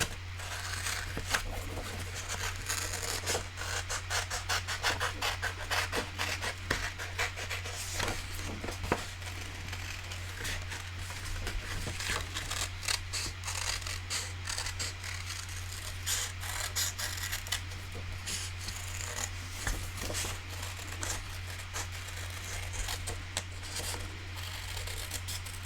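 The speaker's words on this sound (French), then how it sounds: "je vais venir les découper grossièrement" Scissors snip roughly through paper cards in a continuous run of small crisp cuts and mechanical clicks at close range, steady and moderately quiet over a constant low hum, with no voices.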